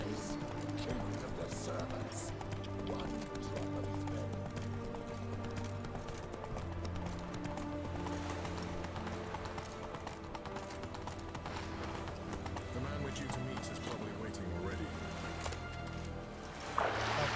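Hooves clip-clop in a steady galloping rhythm as a horse runs in The Witcher 3: Wild Hunt, set against a dense, continuous game soundscape, with a brief louder knock near the end.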